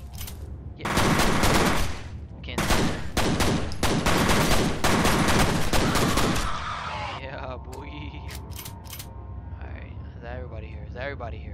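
Pistol gunfire in FEAR: loud, dense strings of rapid close shots for several seconds, then quieter scattered sounds and a voice talking in the background.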